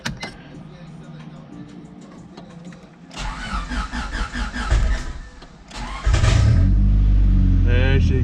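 A Honda Civic EK with a swapped engine cranks, catches and fires up for the first time, settling into a loud, rough idle after a few seconds of quieter shop noise and starter whir.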